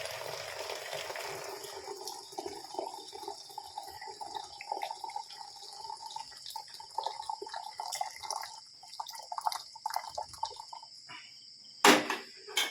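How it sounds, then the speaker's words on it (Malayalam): Black tea is poured into a container in a home kitchen at night, a faint trickling and dripping stream with small splashes over a quiet background, ending in a sharp clink. "നമുക്ക് നമ്മുടെ ബ്ലാക്ക് ടീ ഇതിനകത്തോട്ട് ഇങ്ങനെ ഒഴിച്ചു കൊടുക്കാം."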